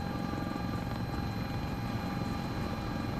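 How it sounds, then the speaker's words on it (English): A Sikorsky S-76C helicopter flies in a flight simulator game, its steady rotor and turbine drone with faint whine tones running loud and unbroken, with no talking. "we're flying the S-76C"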